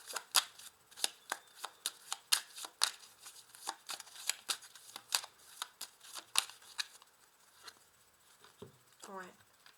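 Tarot cards shuffled by hand in quick, crisp riffling bursts for several seconds, close and fairly quiet, ending with a short spoken remark.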